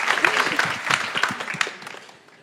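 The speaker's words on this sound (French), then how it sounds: "On applaudit." Brief audience clapping for the speakers at a French HR café-conference, dense and moderately loud, thinning and fading out after about two seconds.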